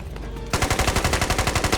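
In the video game Squad, a quiet moment gives way to a loud, rapid burst of automatic gunfire that hammers on in a fast steady rhythm to the end.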